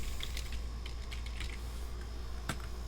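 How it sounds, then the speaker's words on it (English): Typing on a computer keyboard: quiet, scattered keystroke clicks in an irregular rhythm, with a slightly louder tap near the end, set against a steady low background hum. "I'm going to type in the Great"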